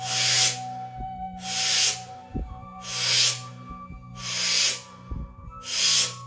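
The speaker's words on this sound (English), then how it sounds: "The reason it makes that noise is because I put my tongue at the roof of the mouth" Slow rhythmic breathing with the tongue pressed to the roof of the mouth, five long hissing breaths at a steady pace, close and fairly quiet, alone without talk.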